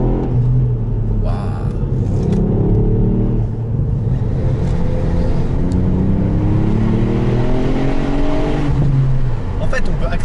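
A 2018 Ford Fiesta ST engine revving hard under acceleration, loud and close from inside the car, with rising and falling engine pitch through gear changes while someone talks over it.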